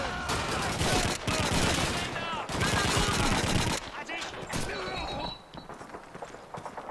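Dense gunfire and grenade blasts in Call of Duty 2 during the battle for Caen, with loud continuous rattling shots and heavy booms that thin out toward the end as the action quiets.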